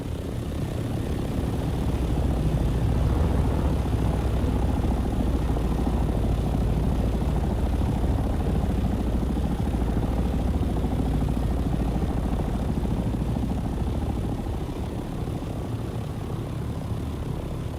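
Aircraft engine drone from a flying craft in the video game Dune: Awakening, a steady, loud, continuous roar holding for most of the stretch before easing slightly near the end, with no talking.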